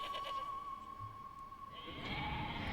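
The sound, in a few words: sheep bleating in Okami HD video game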